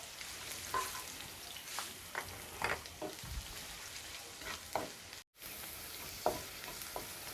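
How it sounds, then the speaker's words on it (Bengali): Green chillies sizzle in hot oil for a pepper masala chicken, a soft steady crackle with occasional stirring scrapes and pops, close and fairly quiet. "ও 2টি কাঁচামরিচ। দুই থেকে 3 মিনিট ভেজে নেব।"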